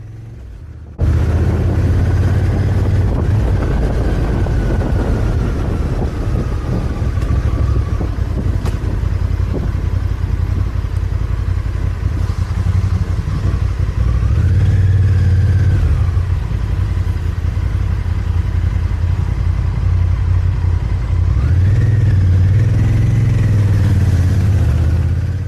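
A motorbike, a Triumph NT, riding across the Union Chain Bridge in Northumberland: a steady mid-pitched engine drone with wind rush throughout, rising in a couple of brief revs, loud and close.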